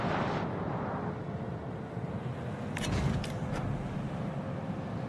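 Warship guns firing at the Moskva in a naval video game: a continuous low booming rumble with a sharp crack-like burst near the middle, no talk over it.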